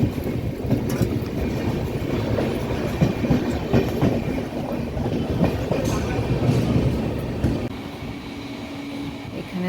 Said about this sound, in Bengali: দেখো দুটো ট্রেন পাশাপাশি যাচ্ছে